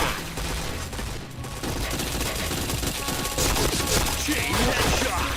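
Video game gunfire rattles in dense rapid bursts, loud and continuous with almost no pause, a busy mix of shots filling the whole stretch.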